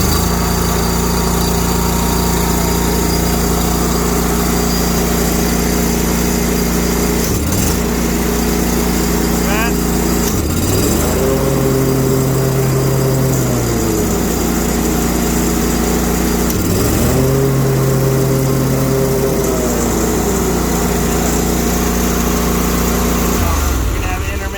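A Ferris FW35 commercial mower engine runs steadily and loud throughout, with a few brief dips and pitch swells as it revs, while a person talks over the drone.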